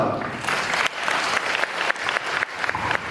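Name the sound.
audience applause at meeting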